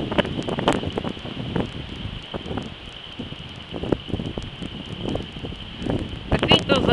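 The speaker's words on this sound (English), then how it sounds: "It's a windy day." Wind blows across a yard by a shed on a gusty day outside an old house, a constant rushing buffet on the microphone with bursts of rustling, while a person talks over it.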